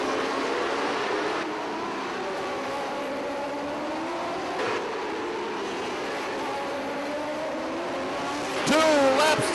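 Race cars roar around a short oval track at the 2007 Atlantic City Gambler's Classic, running bumper to bumper in a steady loud engine drone with rising and falling pitch, a commentator talking over it, then a sharp louder burst near the end.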